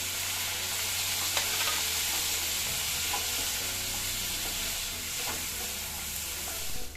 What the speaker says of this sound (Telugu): కొద్దిగా దోరగా ఈ ఉల్లిపాయ ఫ్రై అయిన తర్వాత అండి అప్పుడే మనం టమాటా కూడా వేసేసుకోవాలి